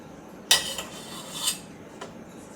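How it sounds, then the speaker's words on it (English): Lard spooned into a pan for refried beans: a few sharp metallic clinks of a spoon against the pan, spaced about a second apart, close and fairly quiet with no talk. "just gonna need a couple spoonsful of lard. Right in your pan there."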